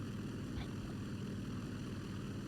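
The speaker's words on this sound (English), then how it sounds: "a helicopter just flew over" A helicopter passing overhead, heard as a steady low rumbling drone with rotor throb that holds at a constant loud level throughout, with no voices.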